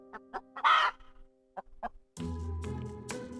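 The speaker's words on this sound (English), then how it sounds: "Cluck, cluck." Chicken clucking: a run of short, choppy clucks, one longer squawk, a few more clucks, then a drawn-out crowing call near the end. The sounds are close and clear, with no talking over them.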